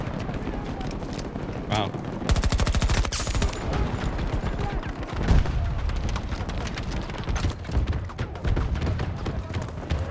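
Combat in the Battlefield 2042 video game, with a grenade blast among dense rapid gunfire, machine-gun bursts and booming impacts throughout, loud and continuous, with a voice briefly speaking over it.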